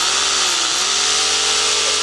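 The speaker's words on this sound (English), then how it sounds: "But will it power a drill?" Battery-powered drill run off a portable power unit, a loud, continuous high-pitched motor whine held steady throughout, close up and alone.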